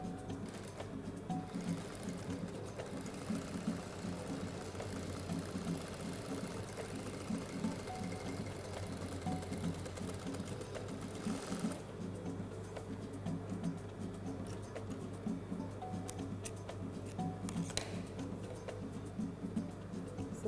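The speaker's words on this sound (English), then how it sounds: "After stitching one side, we are going to stitch the other." A sewing machine stitches along the side of a fabric shopping bag, running as a steady, fairly close mechanical chatter with a continuous rhythmic needle beat throughout and slight shifts in pace.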